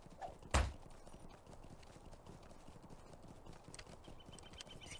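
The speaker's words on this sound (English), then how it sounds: "Let's get on our horse and get out of here." Horse hooves in the online game The Lord of the Rings Online (LOTRO) clip-clop steadily through the clip, with a sharp louder impact and brief whinny-like sound near the start, all fairly quiet.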